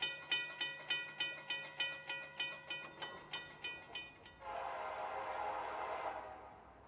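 A freight train nears a grade crossing on a North Florida rail line, its horn sounding in a steady run of regular blasts over rumbling wheels before giving way to a broad, loud roar of passing cars.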